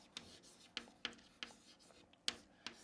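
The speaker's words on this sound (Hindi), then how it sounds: "मैं लिखता हूं यहां पे ऑप्टिक्स" A marker or chalk strokes the word optics onto a board during a physics lecture, leaving about eight short, distinct scratchy taps and squeaks spaced unevenly in an otherwise quiet room.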